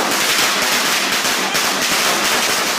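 A long, dense string of Chinese firecrackers set off as a festival tradition, crackling in a loud, continuous rapid-fire burst of sharp pops with no pauses.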